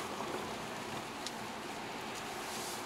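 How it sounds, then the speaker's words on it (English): Steady rain on a misty day patters as a dense, even hiss with faint drips, heard continuously with no voices. "Rainy and misty."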